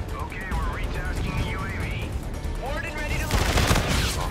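Rapid bursts of SMG fire in the shooter game Infinite Warfare, crackling in fast automatic volleys with the loudest burst at the end, mixed with other game effects and some talk.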